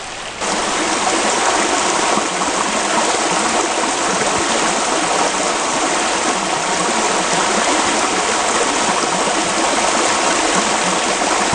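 Justice Creek on the Appalachian Trail flows steadily past, a close, even rush of water that never changes in strength and has no voices over it.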